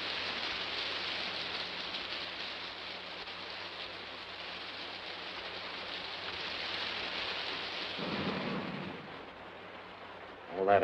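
Heavy rain pouring steadily in a 1955 film scene, a dense constant hiss that holds for the whole stretch, with a brief low rumble partway through and a louder burst at the end.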